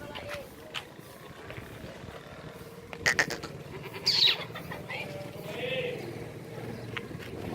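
Goats at a livestock pen for sale, a few short bleats rising over a murmur of outdoor background noise and distant voices.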